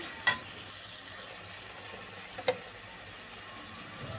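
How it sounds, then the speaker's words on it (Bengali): Chicken curry with chili powder being stirred in a pan gives a faint, steady sizzle with a couple of brief spoon taps against the metal. "তারপর আমি সামান্য একটু নেড়ে মিশিয়ে নিচ্ছি"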